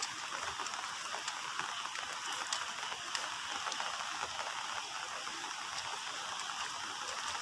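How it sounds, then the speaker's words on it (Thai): A constant rushing wash of mountain runoff water pouring across a road, broad and steady, with no talking. "นี่คือน้ำไหลมาจากภูเขา ห้วยปุ่งนั่นเองนะคะ"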